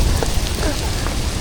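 Heavy rain pours down on a street in Manila, a loud, dense and steady hiss of drops hitting surfaces close by, with no break.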